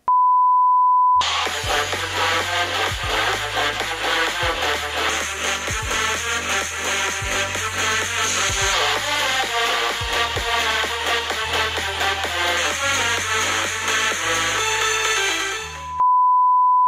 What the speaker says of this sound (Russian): сейчас давайте послушаем, как же звучат эти два смартфона